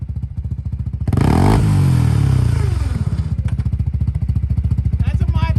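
CFMOTO ZForce 500 side-by-side engine revving hard and bouncing off the rev limiter, a loud, close, rapidly pulsing roar that rises, holds at the cutoff, then stutters back to a throbbing idle, with voices talking over it.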